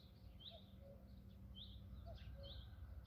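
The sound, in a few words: birds singing in a garden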